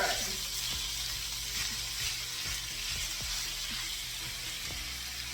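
Ground beef sizzles in a pan with a steady, close frying hiss, and a utensil clicks and scrapes against the pan several times.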